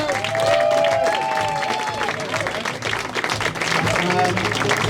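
Audience applause and cheering for contestants at a comedy semi-final, a steady loud wash of clapping from a packed crowd with a voice talking over it.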